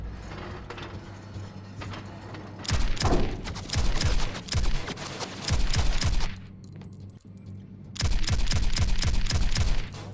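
Heavy rifle in the video game FLAW fires in several loud, rapid volleys separated by short pauses, each burst a close string of sharp cracks with mechanical clacks between them.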